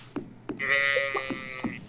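A sheep on a Stardew Valley farm lets out one drawn-out bleat, close and clear, between a few soft footstep-like taps.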